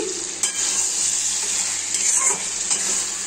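Spices sizzling and frying in a pan while being stirred for a potato and pointed gourd curry, a steady close hiss with occasional scrapes and clinks of the spoon, no talking.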